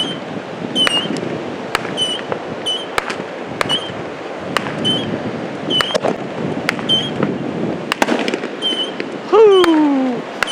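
New Year fireworks go off at a beach on the Texas coast: repeated sharp bangs and crackles at a steady pace, with a whistling rocket rising near the end, all over wind and surf noise.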